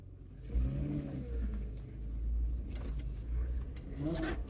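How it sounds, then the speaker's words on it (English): Nissan Xterra with a manual clutch driving along, its engine humming low and steady under road rumble, swelling as it accelerates, with faint cabin rattles. "so we are taking the Xterra for a drive"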